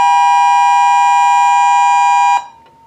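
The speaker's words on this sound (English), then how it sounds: "The siren is still running" A loud, steady electronic siren tone from a Whelen siren speaker driver holds at one pitch, then cuts off abruptly as the frequency cutoff potentiometer is turned, leaving a faint residual hum.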